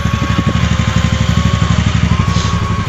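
Close, loud idle of a TVS Ntorq BS6 Race Edition scooter, its small single-cylinder engine pulsing in a fast, even throb that holds steady throughout with nothing else heard.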